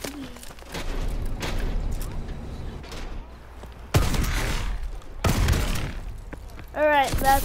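Gunfire from the Call of Duty Advanced Warfare video game: bursts of shots and booms in a fast firefight, loud and close, with game sound effects around them.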